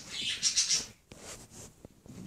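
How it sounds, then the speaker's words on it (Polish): Birds chirp in a video game: a quick cluster of bright, high chirps at the start, followed by a few faint, scattered calls over near-silence. "Ptaszki."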